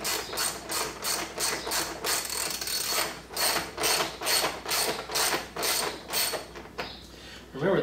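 A socket ratchet clicks in quick, regular bursts while tightening a bolt on a 2018+ Roush F-150 grill light kit, close and loud with a steady repeated rhythm.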